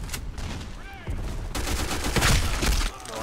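Rapid automatic gunfire in the online shooter Black Squad comes as loud, dense bursts of shots with a short pause before a heavier stretch of fire.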